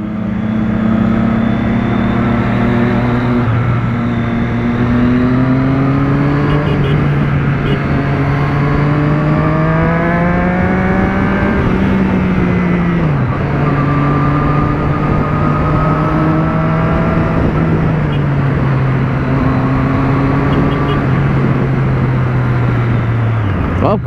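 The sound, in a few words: heavy city road traffic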